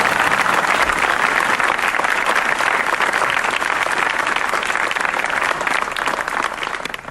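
A crowd at a Gujarati stand-up comedy show claps in a full, loud burst of applause that holds steady for several seconds, then begins to fade at the end.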